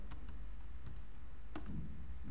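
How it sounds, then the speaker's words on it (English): Typing on a computer keyboard while entering commands in an Android emulator setup, with a few scattered key clicks at an uneven pace over a steady low hum, close and fairly quiet, with no voice. "by typing unzip and then file name"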